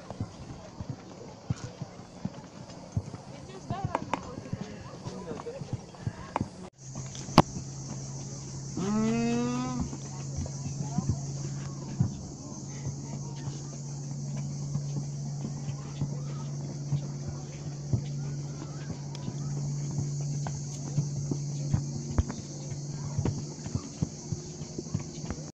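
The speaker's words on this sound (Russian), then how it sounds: "Мы едем наверх на осликах." Donkeys carry riders uphill toward the fortress at Lindos on Rhodes, hooves clip-clopping steadily at a walking pace under a constant drone and occasional chatter.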